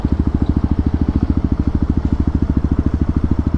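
A motorcycle fitted with a Pipe Werx exhaust runs loud and close, its steady rapid firing pulses forming an even, throbbing engine note that holds for several seconds with no talking.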